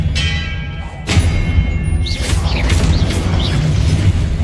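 Spell impacts in a Hogwarts Legacy duel land as a heavy boom at about one second, followed by a dense rumbling burst with whooshing magical trails and sparkling tones through the rest of the clip, loud and up close.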